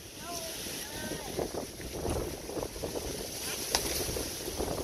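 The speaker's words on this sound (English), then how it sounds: "just look at the wind, the way the wind is blowing your little hair." Blustery wind from a tropical storm buffets the microphone, a steady rushing roar with gusts, while people talk faintly beneath it.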